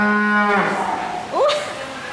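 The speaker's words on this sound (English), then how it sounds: "This cow was stuck outside." A cow stuck outside in the rain at a zoo gives one drawn-out throaty moo that bends upward in pitch near the end, loud and close against a steady wash of background noise.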